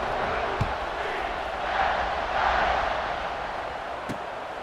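A large stadium crowd roars steadily in a college football video game during a kickoff, a broad sustained cheer that swells and ebbs, with a couple of sharp thuds and no clear talk.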